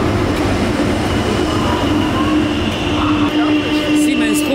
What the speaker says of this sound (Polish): Jesteśmy na stacji, na dworcu, czyli Hauptbahnhof po niemiecku, i oglądamy masę pociągów.